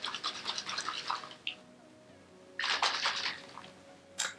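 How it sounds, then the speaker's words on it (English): A closed spray bottle holding water and hair product is shaken in quick rhythmic bursts, with a sloshing, rattling rub up close, a pause, then another vigorous burst and a final short shake. "So once the lid is secure, just go and shake those up together."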